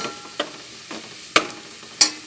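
Onions fry for vegetable biryani, a soft background sizzle punctuated by three sharp utensil knocks or scrapes against the pan.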